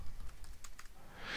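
Quiet, quick keystrokes tap on a computer keyboard while a command is typed, a short run of soft clicks close by with no one talking.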